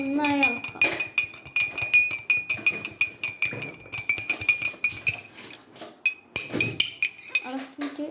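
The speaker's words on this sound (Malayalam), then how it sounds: "നമുക്ക് നന്നായി ഇളക്കാം." Spoon stirring a drink in a glass, a quick run of bright repeated clinks close up, with a voice talking over parts of it.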